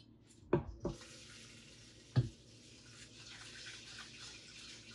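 Tap water pours into a pot of rice with a steady, splashy rush. A few sharp clunks from the pot and sink come first, and nobody speaks.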